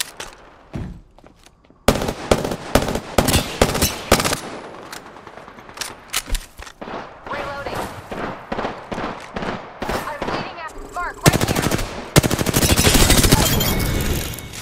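Apex Legends gunfire rattles almost without pause: long automatic bursts and sharp single cracks, loud and close. Louder volleys pile up near the end, and a voice is faintly heard under the shooting.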